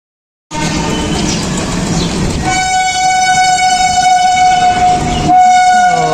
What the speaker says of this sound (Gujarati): રેલવે નીકળી રહી છે